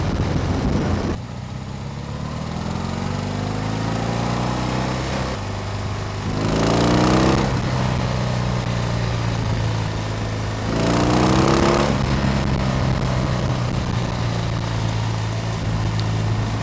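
A BMW R18 Bobber motorcycle engine on a test ride, its deep boxer drone rising in pitch through two strong pulls of acceleration, with rumbling steady cruising between them and no talk.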